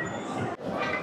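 A train rolling past during a family trip in Pondicherry, a steady broad rumble and rattle that stays loud throughout with a brief dip midway.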